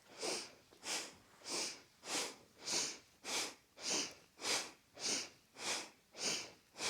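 Forceful rhythmic breaths during Kundalini yoga spinal flexes: eleven strong, evenly spaced breathy rushes through the nose, close and clear, each swelling and fading in a steady pulse of about one every 0.6 seconds.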